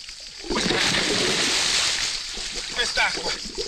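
Water splashes and sloshes as someone dips into it to test its temperature in a park, a burst of splattering that starts abruptly and continues with gurgles, while someone talks over it.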